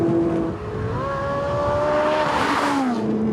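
A 500 hp twin-turbo four-wheel-drive car accelerates hard, its engine note climbing steadily through the gears with a loud, close, rising roar and no talk over it.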